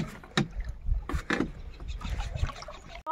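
A rowing boat crossing the water at Hatishal Eco Park in Jorhat, with close paddle dips and splashes in an uneven rhythm and faint voices in the background.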